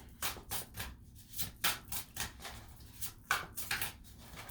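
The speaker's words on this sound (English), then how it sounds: "Let's shuffle one more time." A deck of tarot cards is shuffled by hand in quick, rhythmic bursts of riffling and sliding, close and fairly loud, with short pauses between passes and no talk.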